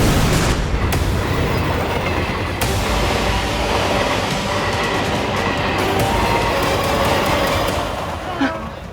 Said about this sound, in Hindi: मैं जाकर रेलगाड़ी को रोकने की कोशिश करता हूँ।